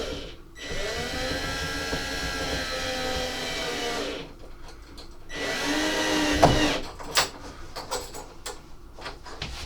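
Small screws are driven into soft wood on a model railway baseboard with a powered driver, heard as two sustained whirring bursts separated by a pause, followed by scattered clicks and taps.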